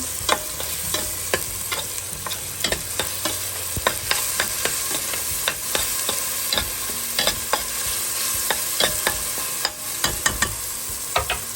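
A tomato dish frying in a pan while being stirred gives a steady soft sizzle broken by frequent sharp clicks and scrapes of the utensil against the pan, close and with no talking.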